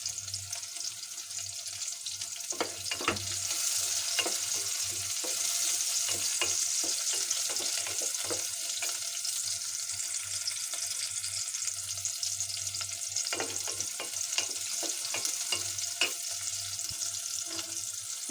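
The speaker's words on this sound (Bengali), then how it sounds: "পেঁয়াজটা ভেজে নিই।" Onion fries in a pan with oil and whole cloves, peppercorns and cardamom, a continuous close sizzle broken by frequent clacking spoon strokes as it is stirred, with no talking.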